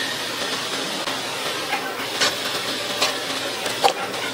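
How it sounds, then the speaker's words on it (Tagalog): A coconut pandan jelly mixture boiling on an induction cooker, a steady close hiss with faint bubbling pops and no talk. "Pagkatapos, hayaan nyo lang kumulo."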